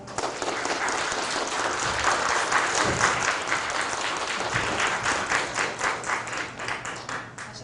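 An audience in a small venue applauds after a staged literary reading, a full, close burst of clapping that holds steady, then thins into a looser, pulsing rhythm near the end.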